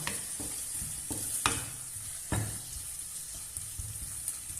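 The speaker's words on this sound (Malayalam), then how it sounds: "കുറച്ച് വറ്റട്ടെ, വറ്റിയിട്ട് ഒന്ന് ഇളക്കി കൊടുക്കാം" Beef varattiyath, a Kannur-style Kerala beef dish, sizzles steadily in the pan as it reduces, with occasional sharp scraping stirs breaking through the frying hiss; close and moderately quiet, no talking.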